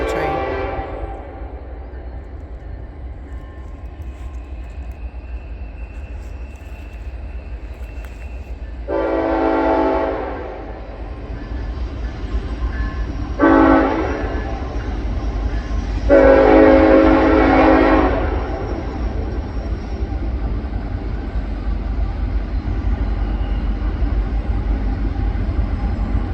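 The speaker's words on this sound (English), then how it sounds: "listened to the train." A train passes on a line near an Appalachian Trail hiking spot, its horn sounding in three separate blasts, the last the longest, over a steady rumble of rolling wagons that grows slightly louder toward the end.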